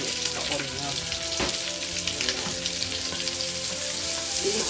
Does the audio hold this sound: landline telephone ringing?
no